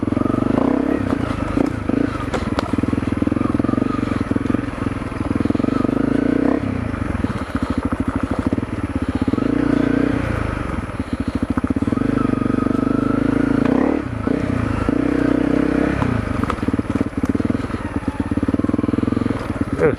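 Honda CRF250L trail bike ridden through the woods, its engine droning up close and loud throughout with repeated throttle surges and dips, mixed with clatter and scraping from the rough ground.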